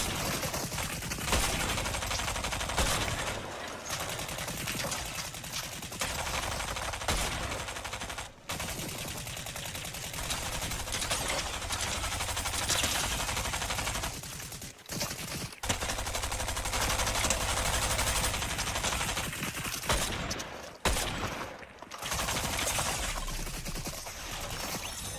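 Gunfire in Fortnite comes as dense, near-continuous bursts of rapid shots, loud and close. The barrage runs almost without a break, pausing only for brief gaps.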